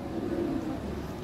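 Lahori pigeons cooing in a loft, a low steady murmur of soft throaty coos running continuously through the short stretch, close by and fairly quiet, with no talk over it.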